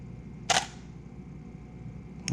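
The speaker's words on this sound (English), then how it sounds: "So let's take this picture." Canon EOS 5D Mark IV DSLR firing its shutter once, a sharp, close mechanical clack in a quiet room, with the start of another click at the very end.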